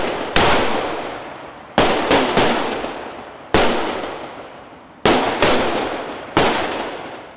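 Gunfire on a shooting range during special operations training, with sharp single shots and quick doubles cracking loudly at irregular intervals, each leaving a long echoing decay across the open range.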